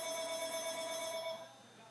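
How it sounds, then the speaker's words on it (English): A phone rings indoors with a steady electronic tone, sounding clearly and alone for about a second and a half before it fades to a softer continuing ring. "Oh, there's my phone."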